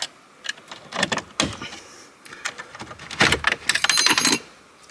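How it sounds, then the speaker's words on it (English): Removal keys slide into the sides of the centre dashboard screen of a 2021 VW T-Cross, giving a run of sharp metallic clicks, scrapes and rattles at close range with short pauses. "Now to get this center screen out, you need these keys. Pop one in on that side and pop one in on this side."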